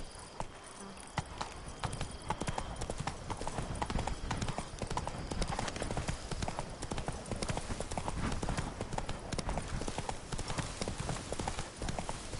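Roach the horse gallops in The Witcher 3, hooves clip-clopping in a fast, steady rhythm throughout, with brief voices and game sounds mixed underneath.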